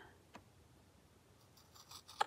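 Scissors trimming paper for a papercraft project, a few faint snips near the start and a brief louder cut at the end, close but quiet.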